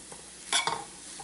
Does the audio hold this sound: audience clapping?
no